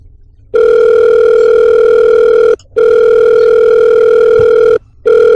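A telephone ringback tone plays loudly and alone, holding steady for about two seconds at a time with brief silent gaps between repeats.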